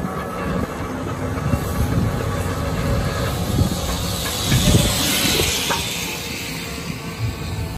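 A train pulls into a station with hissing brakes and rumbling wheels, a shifting mid-distance clatter and squeal rising and falling amid ambient platform noise.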